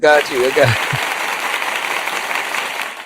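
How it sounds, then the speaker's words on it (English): Sustained applause-like clapping from many hands, loud and continuous for about three seconds, following a brief burst of a voice at the start. "Give me a hand clap."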